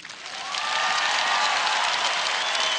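Applause from a concert hall audience in Vitebsk swells up within the first half second and then holds as a steady, fairly distant wash of clapping.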